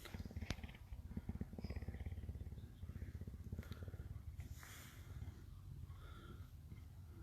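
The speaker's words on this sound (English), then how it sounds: "can you hear him purring?" A cat purrs steadily and rhythmically close up, a soft low rumble with quiet background rustles and a few faint clicks.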